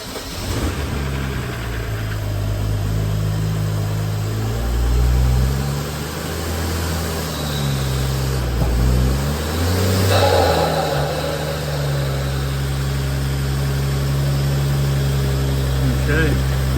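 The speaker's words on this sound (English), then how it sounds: "we gotta run the engine at idle speed" A BMW N55 engine runs at idle during an eccentric shaft replacement and Valvetronic relearn, a steady close hum whose pitch shifts a few times, with someone talking over it.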